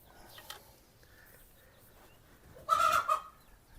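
A burst of clucking from nearby chickens near the end, following quiet background with a faint earlier call.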